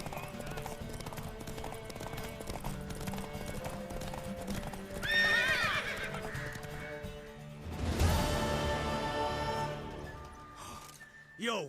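Hoofbeats of a horse in The Witcher 3 clatter in a steady clip-clop rhythm over game music, with a couple of neighs and whinnies rising loudly partway through and near the end.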